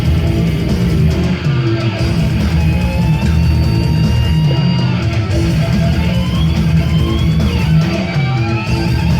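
An album plays continuously as dense, loud death metal, a thick wall of distorted guitars and drums with sustained lead lines running over it throughout, with no voices talking.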